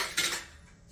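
Metal cutlery and dishes clatter as they are set down in a home kitchen, a bright clash near the start fading into softer rattles over about a second, close and fairly loud with no talk.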